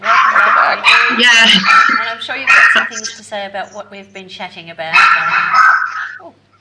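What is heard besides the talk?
dogs barking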